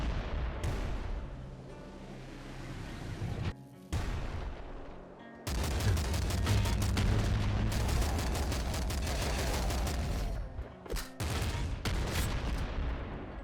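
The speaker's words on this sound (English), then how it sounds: "now that we've got a heavy machine gun, I'm way more interested in this" Heavy machine gun fire in the video game Nuclear Throne, with long sustained bursts of rapid shots and short pauses between them, loud and dense, with no voice over it.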